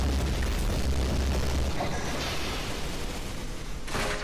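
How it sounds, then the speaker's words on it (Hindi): A firecracker explosion in an animated Skibidi Toilet episode makes a loud, sustained booming roar with deep rumble, fading slightly before another burst flares near the end. "लो फिर महंगा पटाखा।"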